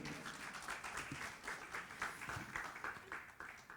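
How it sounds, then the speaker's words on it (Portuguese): Audience applause at a church couples' class, a steady wash of many hands clapping at moderate distance, fairly faint and continuous throughout. "Uma salva de palmas para eles aí, por favor."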